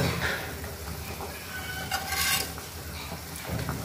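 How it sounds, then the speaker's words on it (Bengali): Raw green banana being stir-fried in a pan, with spatula scrapes and clinks against the metal over a soft background sizzle, in irregular bursts. "কাঁচা কলাটা আমি কষায় নিতেছি।"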